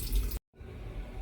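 Tap water runs into a kitchen sink during dishwashing, a steady close hiss and splash that cuts out briefly, then resumes more softly.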